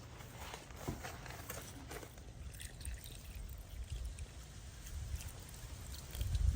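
Compost tea poured onto planted lettuce in a garden bed makes a soft, steady trickle and splash of liquid, faint and continuous with slight swells, and no talking.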